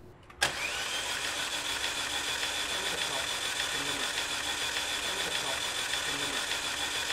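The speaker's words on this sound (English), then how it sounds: "I'm going just to turn the engine over and let it clear out using some of that compressed air" A car engine with an overheating fault and suspected bad cylinders cranks over to clear water out of the cylinders, starting with a sharp onset and then running as a steady, loud, continuous mechanical drone up close.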